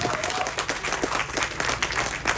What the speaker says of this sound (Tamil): நல்ல ஒரு கைத்தட்டல்கள் கொடுக்கலாமே எல்லாருமே.